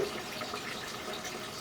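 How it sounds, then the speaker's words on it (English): Water rushes steadily through a city sewer pipe at a saddle connection, a continuous broadband wash with no pauses or voices. "See the water rushing through."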